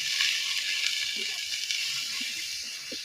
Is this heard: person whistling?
no